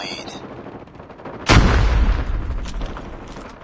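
A frag grenade detonates in Call of Duty Mobile on the Highrise map during a Domination match, one loud sudden boom followed by a rumbling tail that fades slowly under ongoing game noise.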